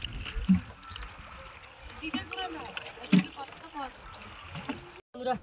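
A small wooden boat moving on a river while fishing, with water gurgling and lapping against the hull and occasional knocks, under people talking nearby.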